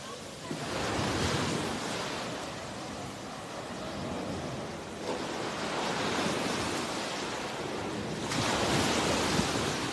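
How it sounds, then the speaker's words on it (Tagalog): Steady roar of ocean waves washing onto the shore, with swelling surges every few seconds and a constant hiss of surf. "Sarap pakinggan ang dagat."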